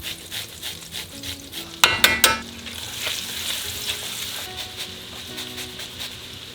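Garlic sizzles as it fries in foamy vegan butter and olive oil, stirred in a pan with a few sharp clinks of the utensil early on, then a steady close crackle.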